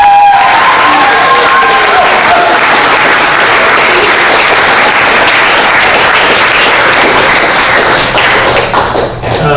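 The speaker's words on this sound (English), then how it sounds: "Can we give them a round of applause?" Dense, loud applause and clapping from an audience at a youth talent show, a steady wash of hands filling the room for nearly ten seconds before it begins to thin out.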